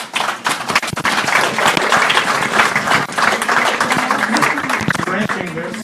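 Loud, sustained applause from a crowd at an open city council meeting on cannabis dispensaries in Nelson, continuing throughout with voices talking underneath.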